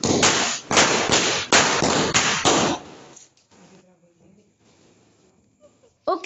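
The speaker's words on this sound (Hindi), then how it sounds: "अब हम यहाँ पे मुर्गा चाप फोड़ने वाले हैं" A rapid string of loud Murga Chhap firecracker bangs at Diwali, crackling for about three seconds, then fading into quiet background noise with faint distant pops.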